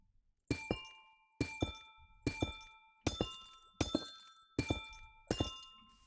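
Amethyst blocks in Minecraft chime seven times at a steady pace, each a sharp crystalline strike with a bright ringing tone that rings briefly before fading into near silence.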